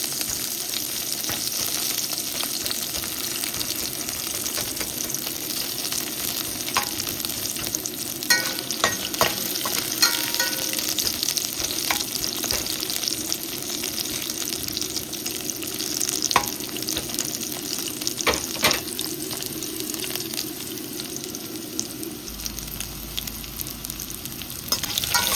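Pork ribs fry Chinese-style in a pan, a steady close sizzle broken by repeated scraping and clicking stirs, with no talk throughout.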